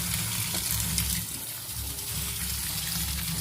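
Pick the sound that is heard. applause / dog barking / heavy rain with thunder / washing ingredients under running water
washing ingredients under running water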